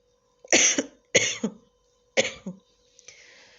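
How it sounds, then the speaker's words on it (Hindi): Three harsh coughs in a row, close and fairly loud, followed by a short, soft rustle. "मुझे खांसी भी आ रही है"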